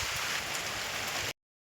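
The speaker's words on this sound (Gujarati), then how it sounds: "અત્યારે ઝરમરિયું શરૂ થઈ ગયું છે" Light drizzle falling steadily outdoors beside a field of black gram crops, a soft even hiss of rain throughout that stops abruptly near the end.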